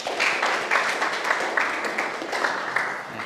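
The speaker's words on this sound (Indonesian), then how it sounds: "Bagus, tepuk tangan." Brief applause from a small classroom audience in a lesson on Qur'an and Hadith: soft, fairly distant clapping with an uneven rhythm that runs steadily for about three seconds, with no talking.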